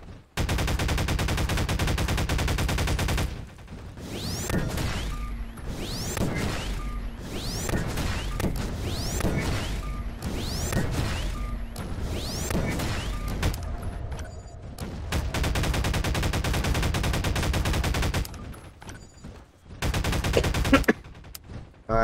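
Rapid machine gun fire in a video game, loud sustained bursts of rattling shots separated by short pauses, with a final burst after a brief gap; no talking.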